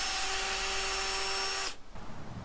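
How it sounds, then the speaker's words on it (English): Power drill with a 6mm bit boring into plywood, a steady high whine that runs continuously for about a second and a half, then cuts off, leaving quiet room noise. "It gets easier now because I'm onto a 6mm drill"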